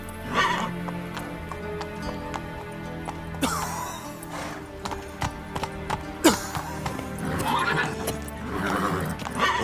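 Horse in The Witcher 3 video game galloping with rhythmic clip-clop hoofbeats and a loud neigh, set against game music and ambient effects; no speech over it.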